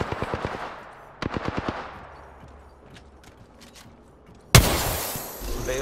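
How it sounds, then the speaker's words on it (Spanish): Gunfire in Apex Legends: two quick bursts of rapid, sharp automatic shots, a few fainter distant cracks, then a sudden loud blast of noise at the end. "¡Disparando!"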